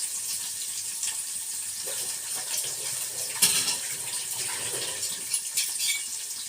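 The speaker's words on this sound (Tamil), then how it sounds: "இது கரண்டி இது யூஸ் பண்ணுறதுக்கு முன்னாடி ஒரு முறை கழுவிப்போம்" A spoon is rinsed under running kitchen tap water, giving a steady soft splashing stream throughout, with a few clinks and splashes partway through and no talk.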